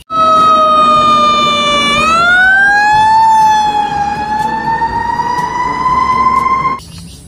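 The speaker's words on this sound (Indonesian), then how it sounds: "Widih, ada truk pemadam kebakaran." A loud electronic siren from a toy fire truck wails continuously, its pitch sliding upward and holding before cutting off abruptly near the end.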